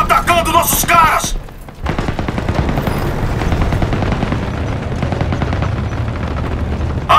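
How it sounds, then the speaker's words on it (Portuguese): Small-arms gunfire in a Call of Duty WWII multiplayer match, a dense stream of rapid shots and bursts after a short opening stretch of game noise, loud and continuous with booming low end. "Tiros de armas leves!"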